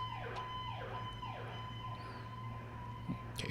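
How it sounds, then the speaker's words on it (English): An emergency vehicle siren wails outside a window, its repeating rising-and-falling sweeps steady and fairly loud over a constant low hum, with no talking. "Okay, big siren outside the window."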